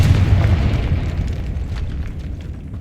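The Confringo blasting spell in the video game Hogwarts Legacy sets off a loud, deep explosion right at the start, followed by a heavy rumbling boom that slowly fades over a few seconds.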